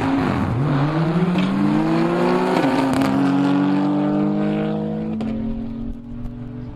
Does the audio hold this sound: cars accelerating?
yes